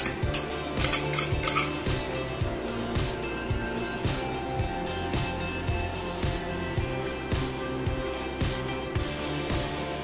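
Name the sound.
fried onions being scooped out of the cooker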